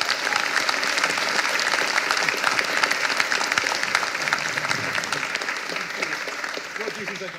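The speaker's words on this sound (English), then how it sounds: "Can we have a huge round of applause for the panel?" An audience at a developer conference gives a panel a big round of applause: loud, sustained, crowded clapping that holds steady for several seconds and fades slightly at the end.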